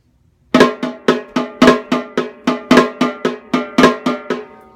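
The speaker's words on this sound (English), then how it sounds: "if I want to play a flam on each quarter note" Drum kit flams struck on every quarter note, each grace stroke landing just ahead of the main hit: about a dozen evenly spaced, loud, close accents with ringing decay and no talking.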